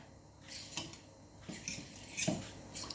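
Powder being stirred into a mixture with a spoon, giving a few brief scraping clinks against the bowl in irregular bursts, close and fairly quiet with no talking.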